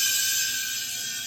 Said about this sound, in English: you can hear that refrigerant hissing in there.